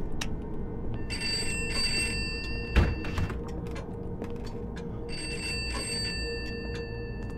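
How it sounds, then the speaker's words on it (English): Telephone ringing inside a house in the horror game Pineview Drive, two bursts of trilling bell separated by a pause and a dull thunk, steady room hum beneath, no talk. "That phone's ringing."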